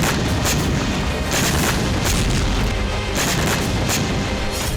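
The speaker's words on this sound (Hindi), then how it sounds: "तबाही का ऐसा तांडव, धमाकों का ऐसा सिलसिला कि रूस ने नए साल में सबसे बड़े हमले का रिकॉर्ड बना दिया।" Explosions from Russian missile strikes on Ukraine, a dense, loud wall of booms and blasts with repeated sharper bursts over continuous rumbling, no speech.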